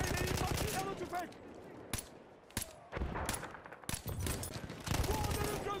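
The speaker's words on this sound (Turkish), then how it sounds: "Dikkat edin, makinalı tüfek." Machine gun fire in an online multiplayer shooter, with several sharp bursts and single shots scattered among voice chat and other game sounds, fairly close and loud.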